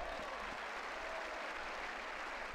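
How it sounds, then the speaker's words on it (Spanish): Crowd applause from the 1998 PC tennis video game The French Open: steady, even clapping that fills the whole stretch, fairly soft and heard alone without talk. "La gente aplaude."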